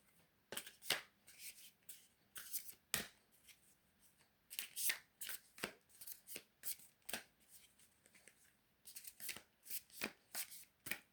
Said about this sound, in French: Et on va mélanger cet oracle.